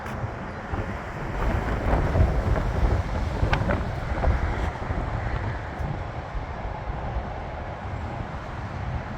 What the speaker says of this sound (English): Just kind of a mist in the wind and snow.